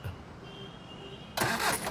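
After a quiet moment a vehicle engine abruptly cranks and catches, bursting into a loud, broad roar that holds steady to the end.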